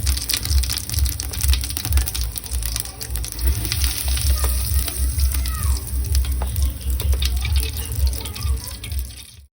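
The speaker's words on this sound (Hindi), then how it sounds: "सब्जी छौंक देते हैं।" Vegetables sizzle and crackle steadily in hot oil, with occasional stirring and scraping in the pan.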